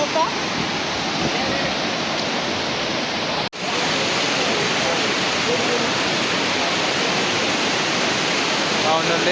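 Loud, steady roar of the flooded Kalu River rushing after sudden rain fills the whole clip, a dense broadband wash with one brief dropout near the middle.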